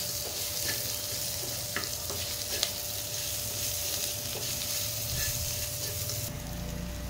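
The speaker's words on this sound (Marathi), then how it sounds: "हे व्यवस्थित आपण परतवून घ्यायचं आहे।" Ginger and green chillies sauté in masala in a pan, with a steady soft sizzle broken by occasional light scraping and stirring clicks, all fairly quiet and close.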